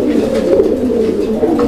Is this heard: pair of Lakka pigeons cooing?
yes